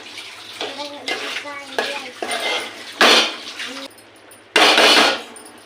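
Chopped ridge gourd simmering in the water it has released is stirred in a pot, with clattering spoon-on-metal scrapes in bursts, a couple of sharper louder clanks, close and alone.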